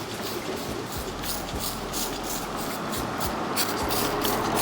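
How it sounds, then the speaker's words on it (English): Sprayer misting water mixed with bonding glue onto Banas stone during installation, a steady close hiss with brief spurts over a low hum, no talk. "Same water mixed with bonding glue, we just spray down our stone."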